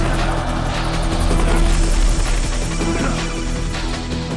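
Hind attack helicopter in the Metal Gear Solid: The Twin Snakes video game, a steady loud rotor drone with low engine hum and game music layered over it, continuous throughout.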